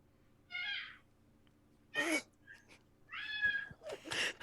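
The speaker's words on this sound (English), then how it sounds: "No, that's my cat." A house cat meows loudly several times in short, separate calls with pauses between them, close to the microphone in an otherwise quiet indoor room.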